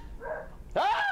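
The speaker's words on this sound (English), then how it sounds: "Where dogs bark." A dog barks once, loud and near, after a stretch of faint background sound.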